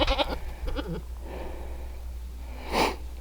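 A young goat on a farm, stuck after coming over at feeding time, gives a few short, fairly close bleats, with a louder cry near the end over a low steady hum.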